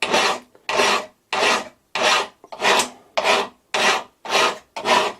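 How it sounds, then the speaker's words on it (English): Hand file rasping across a metal quick change parting blade holder, nine steady strokes in a regular rhythm with brief pauses between, close and loud, no talk. "I've been filing for a while, but this is really hard."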